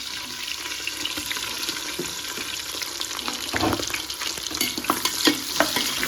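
Onions and green chilies frying in a pan for a home-style fish biryani, a steady hiss of oil with scraping stirring and occasional clatter of a spoon against the pan, close and continuous with no talk.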